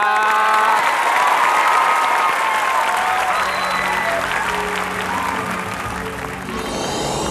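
Loud applause from a crowd at a Thai school performance, dense and continuous clapping that gradually thins out, with some cheering and voices mixed in.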